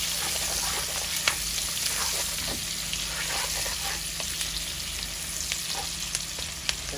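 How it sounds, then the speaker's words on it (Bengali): Onion and garlic fry in a pan with a continuous dense sizzle, punctuated by occasional stirring clicks, close and steady throughout with no talking. "এই যে আমাদের পেঁয়াজ ভাজা হয়ে গেছে।"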